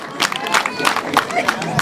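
Audience clapping at a wedding celebration, a scattered run of hand claps mixed with crowd murmur and a voice speaking over it.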